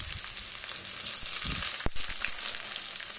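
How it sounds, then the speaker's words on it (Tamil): Onions sizzle steadily in hot oil, a continuous crackling hiss with a few scraping stirs and a sharp clink partway through. "இப்போ வந்து வெங்காயம் வந்து நல்ல ஒரு கோல்டன் ப்ரௌனுக்கு வதங்கணும்"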